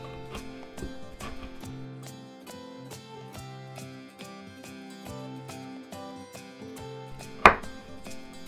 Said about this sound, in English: now we want to cut up our kimchi